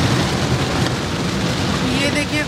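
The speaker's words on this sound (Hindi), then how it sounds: "जोर जोर से आवाज भी आ रही है, खूब झमाझम बारिश हो रही है।" Heavy monsoon rain pours down in a loud, dense, continuous roar of big drops drumming on surfaces, with a faint voice beneath near the end.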